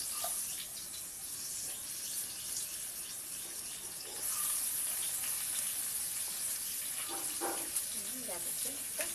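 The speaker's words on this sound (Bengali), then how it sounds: "মাছের তেলের মধ্যেই আলু পেঁয়াজ দিয়ে দেবো সব" Potatoes and onions fry in leftover fish oil in a pan, giving a steady broad hiss that swells louder partway through, with a few soft clinks and faint utensil sounds.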